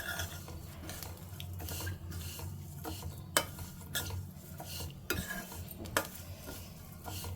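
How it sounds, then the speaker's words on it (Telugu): Dry fruits roasting in a pan over a low flame, heard as a steady soft stirring scrape with faint sizzle and occasional sharp clinks of the spoon against the pan, close and continuous. "ఇదండి మొత్తం ఇలా సిమ్లో పెట్టి రోస్ట్ చేసుకోవాలి"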